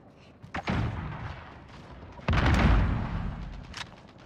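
Cruise missile strikes in the video game Call of Duty: Modern Warfare land as heavy booming explosions, one near 0.6 s and a larger rumbling blast near 2.3 s that rolls on for over a second, with smaller thuds around it.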